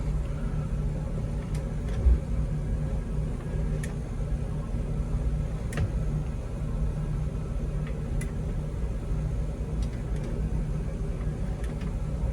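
Boat engines idle steadily after being shifted through forward and reverse, a constant low rumble with a few faint clicks and ticks over it, no voices heard.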